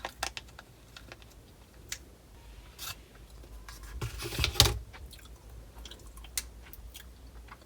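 Someone eats tiramisu close to the microphone. Soft, irregular chewing and wet mouth clicks come in quick succession, with a slightly louder cluster midway and no talking.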